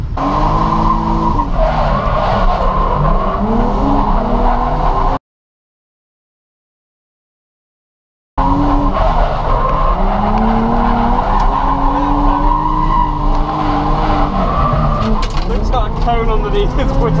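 A Nissan 350Z drifts at Santa Pod in November, its engine roaring continuously with sustained, loud tyre squeal and skidding, interrupted by a few seconds of silence before the screeching resumes; a voice can be heard under the noise.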